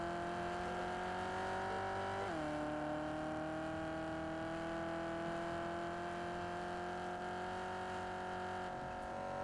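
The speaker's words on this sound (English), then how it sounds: "Got a race car." A race car in a video game drones at a steady engine pitch, with a quick shift or rev change early on and then a constant whirring hum for the rest, loud and unbroken.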